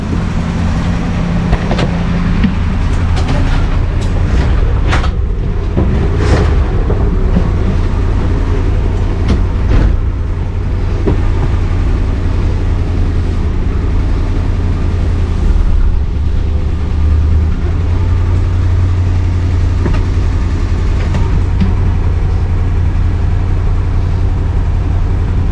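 A 1978 Dodge Ramcharger's engine idling nearby, a loud, steady low rumble with some clicking ticks on top and no talk.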